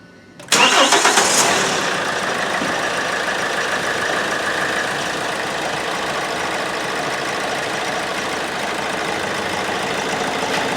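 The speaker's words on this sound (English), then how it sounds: "the engine has started very easily" A Hyundai i30 1.6 CRDi diesel cranks briefly and fires after a fuel filter replacement, then settles into a steady, close diesel idle with a faint clatter.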